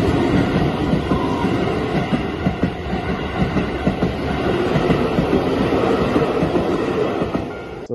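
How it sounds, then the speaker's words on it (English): A train rumbles past in rural Japan, with steady rail noise and rhythmic clattering wheels holding loud and close throughout, no voices. "As much as I like trains in Japan, this is not the time for it."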